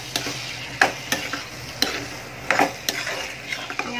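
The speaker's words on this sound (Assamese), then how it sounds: "ইয়াত মই বইল কৰি থোৱা বুটকিটা দি দিছোঁ আকৌ এটা ভালদৰে লৰাই দিম" A spoon stirs boiled chickpeas in hot oil for chole paneer, scraping and clinking against the pan in irregular strokes over a soft sizzle, close and clear.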